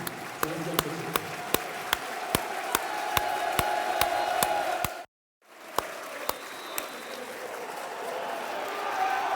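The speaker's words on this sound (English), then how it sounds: "I'm just going to pause for the minutes applause here, listeners." A football crowd holds a minute's applause, a steady wash of clapping with sharp, evenly spaced claps standing out close by, broken by a brief dropout in the middle.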